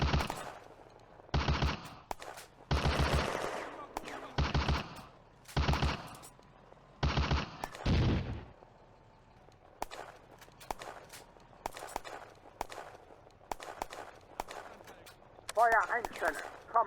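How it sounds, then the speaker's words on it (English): Mortar (Granatwerfer) fire in the Firefight Eastern Front video game: a series of loud, heavy bursts in a broken rhythm, followed by quieter scattered cracks and a distant rattle near the end. "The Granatwerfer opens fire on an unknown contact at the crossroads."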